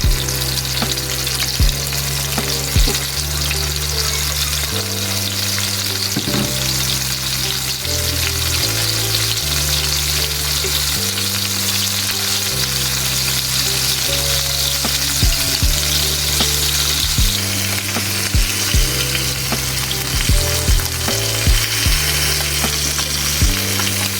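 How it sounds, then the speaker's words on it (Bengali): Koi fish fry in hot oil in a pan with a loud, continuous sizzle and crackle, with occasional scrapes of a utensil. "মাছটা এখন ভাজতে হতে থাক"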